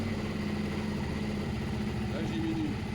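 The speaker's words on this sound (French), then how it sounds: "Je vais vous mettre la moto en route et vous allez voir comme quoi le régime moteur change." Suzuki SV650 motorcycle engine idling steadily at close range, a continuous low throb with a slight pitch shift near the end as the revs change.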